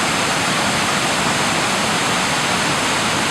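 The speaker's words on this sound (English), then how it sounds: "You can see the rushing water off in the back there." Rushing water after post-storm torrential rain in Jefferson Township, New Jersey, flowing toward Longwood Lake: a loud, constant broadband roar of fast-moving water that holds steady throughout with no voices.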